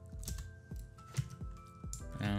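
Computer keyboard typing during coding, a handful of irregular key clicks and taps at close range, moderately loud with no voices.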